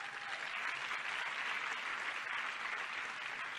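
An audience applauds after a speech, a dense, steady wash of clapping that runs the whole time at moderate distance.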